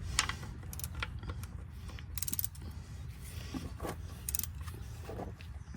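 A 14mm socket wrench ratchets as it loosens the drain plug on a Subaru Impreza CVT transmission, producing a quick series of light mechanical clicks and scrapes, close and fairly quiet.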